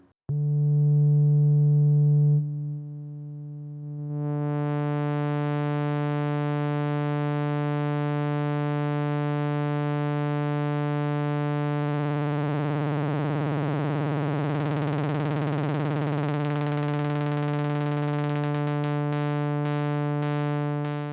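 A Korg Volca Keys synth tone holds steady, then its LFO sweeps the filter cutoff and pitch, brightening with a slow wobbling modulation before fading into rapid flutter near the end.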